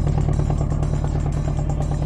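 Worn Volkswagen Golf Mk2 engine idling close by with a broken, damaged exhaust, a loud, rough, rapid clattering putter with a steady low drone and no talk.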